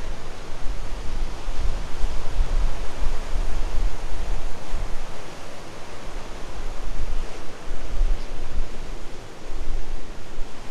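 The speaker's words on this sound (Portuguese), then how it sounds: "tem umas ondas que batem aqui no mole e molha tudo, olha só" Ocean waves pound a breakwater at Brazil's southern state border in a steady, loud roar of surf and spray, continuous and close, with wind rushing over the microphone and no voices.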